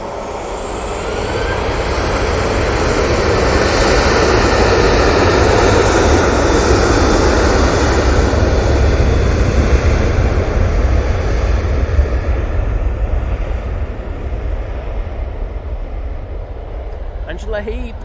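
A Jet2 airliner departs for Corfu from Manchester, its jet engines building to a powerful, sustained roar that holds loud and near before slowly easing, with a voice talking faintly beneath.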